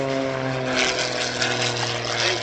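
Aerobatic propeller airplane climbing and arcing through a spiraling tower manoeuvre before an upright spin, its engine droning steadily with a strong harmonic hum and shifting pitch as it rolls, fairly close and continuous.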